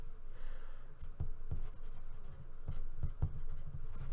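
A pencil scratches a label onto paper beside a drawing of a train in one-point perspective, with soft strokes and a few sharper taps, quiet and close.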